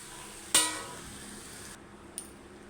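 A metal spatula clanks once against a pan while fried spice mix with curry leaves is stirred dry, followed by faint, quiet scraping.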